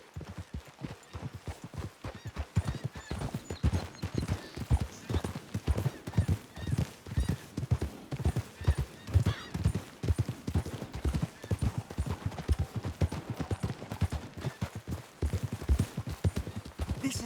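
Horse hooves clip-clop at a steady trotting rhythm throughout, close and clear, in the game Red Dead Redemption 2, with a faint whinny now and then.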